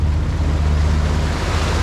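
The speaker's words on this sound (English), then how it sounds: "So we've got some wind, so we've switched the engines off and we've put the mainsail out." Wind and waves aboard a sailboat running downwind under mainsail with engines off in 15 to 17 knots of breeze, a steady, loud rushing wash of water and wind buffeting the microphone.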